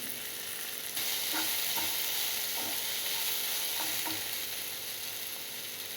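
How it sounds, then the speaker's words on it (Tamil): Vegetables for rava kichadi fry in a pan with a steady, fairly soft sizzle, broken by a handful of light stirring clinks and scrapes, with no talking. "இப்போது ஓரளவுக்கு காய் வதங்கிடுச்சு."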